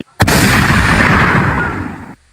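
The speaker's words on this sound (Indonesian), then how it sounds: "Meledak." A single loud explosion bursts suddenly and leaves a heavy, rumbling roar that holds for about two seconds before cutting off, close and with no voices.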